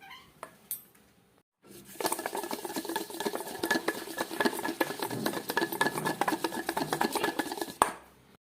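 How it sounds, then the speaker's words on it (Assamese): Butter and ghee are beaten in a bowl, a quick run of rapid, rhythmic clinks and scrapes of a utensil against the bowl after a couple of isolated knocks, fairly close, ending with a sharp tap. "আমি বাটাৰখিনি এনেকৈ ঘিৰ সৈতে ফেটি ল'লোঁ।"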